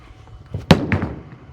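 A bowling ball strikes the pins with one sharp, loud crash, followed by a brief rattling scatter that fades quickly, heard alone.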